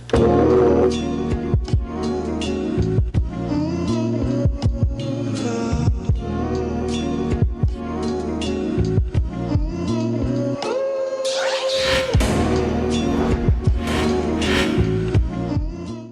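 A dense, loud hip hop beat with punchy drums and a looping sample, steady groove throughout with a brief breakdown near the end.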